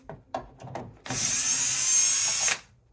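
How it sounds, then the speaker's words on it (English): A power drill backs screws out of a loose door hinge with one steady high whine lasting about a second and a half, preceded by a few light clicks and taps. "I'm actually gonna pull out all 3 screws"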